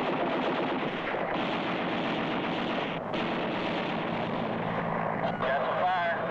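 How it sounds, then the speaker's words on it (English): Vietnam War combat gunfire from 1966 crackles in dense, rapid bursts that sound like machine guns, with voices shouting over the constant racket. "we're taking a little fire back here"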